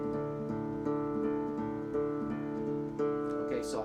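Guitar in drop D tuning playing the bass part of La Volta, a steady pattern of low thumbed notes ringing under sustained tones, close and alone without talk.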